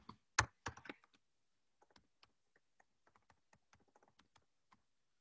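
Typing on a computer keyboard to enter a username: a few loud, heavy key strikes at the start, then a long run of light, crisp, irregular keystrokes, close and alone with no talk.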